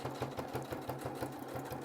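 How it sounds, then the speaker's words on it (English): A sewing machine runs steadily, stitching a fabric mask with a filter opening while backstitching over pleats, its needle hammering in a fast, even rhythm close by with no voices. "I would put your needle down, flip it, and sew back over"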